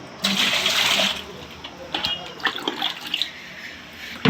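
Water is poured to dilute aloe vera fertilizer, one litre of mix to five litres of water, in a splashing gush followed by shorter pours and trickles, with no talking.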